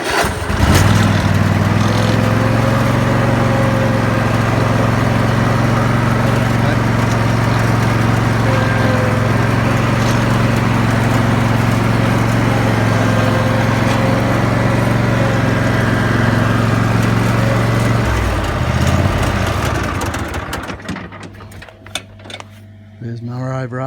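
A Rover RTZ S46 ride-on lawn mower with a 46-inch deck runs loud and close with a steady droning engine for about twenty seconds before winding down and cutting out, leaving quieter background sound.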